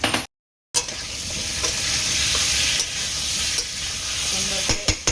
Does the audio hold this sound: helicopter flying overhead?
no